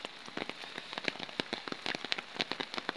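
Rain and flood water in Barangay San Gabriel. Dense pattering drops and splashes hit nearby surfaces in a quick, irregular crackle at a fairly faint level.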